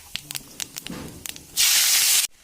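Scattered light clicks and small pops give way to a sudden loud burst of hissing sizzle as onion hits the hot oil used for frying fish, lasting under a second before stopping sharply.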